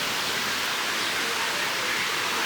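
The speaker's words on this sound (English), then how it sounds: "Got some wonderful waterfalls over here" Steady broadband rush of waterfalls splashing along the San Antonio River Walk, heard up close and continuous with no talk.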